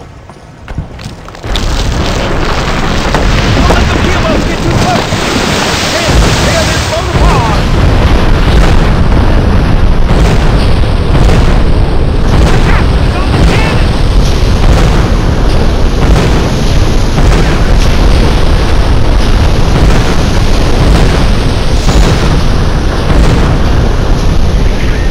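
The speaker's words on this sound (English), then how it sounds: "Get on that keelboat cannon and blast those boats" Cannon fire from a keelboat blasting enemy boats in the Western video game Gun: a long, dense run of loud, heavy booms and crashing explosions that pile up continuously after a brief quieter opening.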